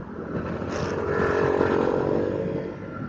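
Honda Beat scooter ridden through city traffic, its small engine giving a steady droning hum that swells slightly midway, close and continuous with no talk.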